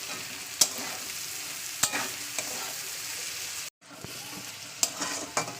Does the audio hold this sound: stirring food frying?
yes